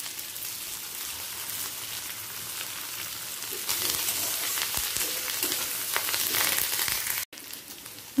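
Onions and green chillies frying in a pan with curry leaves, a steady close sizzle that swells louder midway, with a brief drop near the end before it resumes.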